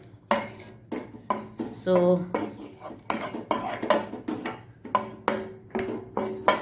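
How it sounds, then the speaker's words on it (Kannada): Fenugreek seeds frying in a little oil in a pan for a Mangalore-style methi fish rasa, stirred with a metal spoon: repeated clinks and scrapes against the pan, moderately close, with a single brief spoken word. "ಮೆಂತೆಯನ್ನು ಸ್ವಲ್ಪ ಎಣ್ಣೆಯಲ್ಲಿ ಹುರಿದುಕೊಳ್ಬೇಕು"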